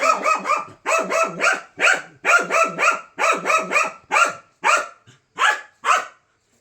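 A dog barks repeatedly close by, in quick clustered bursts that slow to spaced single barks before stopping, with no other sound around it.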